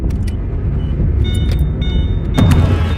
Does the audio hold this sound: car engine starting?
yes